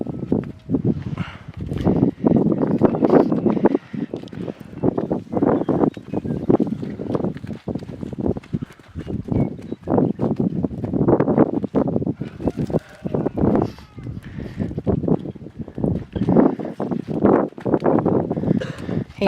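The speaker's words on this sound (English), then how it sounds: "I'm not going to be able to video though because of the wind" Strong gusts of wind batter the microphone during a May winter storm, loud rumbling bursts that rise and fall continuously, close and rough, with no talk.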